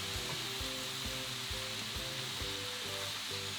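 Bacon, mushrooms and leeks sizzle steadily in a pan, a continuous close frying hiss broken by repeated scraping stir strokes at a fairly regular pace.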